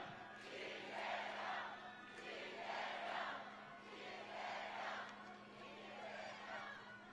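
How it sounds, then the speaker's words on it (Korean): A large outdoor crowd at a presidential campaign rally in Namyangju swells in waves of cheering and shouting, fairly distant and rising and falling roughly every second or so over a constant low hum. "뜨거운 박수 함성으로 맞아주십시오."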